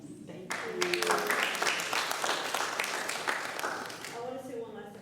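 Audience at a school health advisory council meeting applauds, a dense burst of clapping from a room of people that swells and then tapers off, with voices talking over it.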